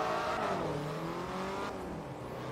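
A Porsche Turbo engine revs hard in Forza Motorsport 3 during a Class D Euro Tour race, a loud, close, rising and falling roar that eases off near the end without any voices.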